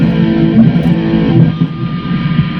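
Electric guitar with a small built-in distortion fuzz circuit, played close and loud as a continuous buzzing, saturated tone with a gritty, sustained texture.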